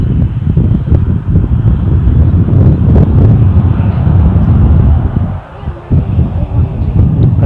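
A Boeing Dreamliner airliner at Amsterdam Schiphol airport gives a distant, steady jet rumble, heavily mixed with outdoor wind noise buffeting the microphone.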